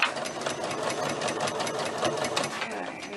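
A sewing machine stitches a fabric back-to-school pencil bag, running in a steady continuous whir throughout with a brief back stitch, close and fairly loud.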